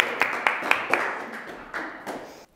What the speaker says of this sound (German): Erstmal Applaus für Kilian.